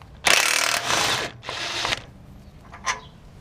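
A ratchet wrench fitted with a 22 mm socket works on the steering rack of a first-generation Toyota Tundra, giving two loud, close bursts of clicking followed by a fainter short click.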